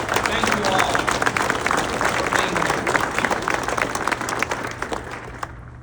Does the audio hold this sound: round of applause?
yes